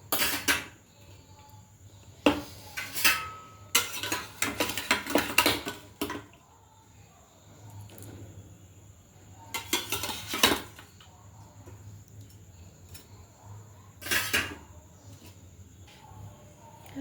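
A spoon stirs a pot of potato and paneer curry just after water has been added, giving intermittent close scraping and clinking bursts separated by quiet stretches over a low steady hum.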